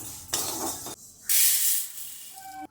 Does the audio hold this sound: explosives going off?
no